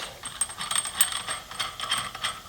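A hand ratchet clicks in quick, uneven strokes, tightening a socket cap screw and locking nut on a tubing notcher. The light metallic pawl clicks are close and there is no talk.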